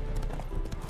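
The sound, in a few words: horse hooves and whinny in the video game The Witcher 3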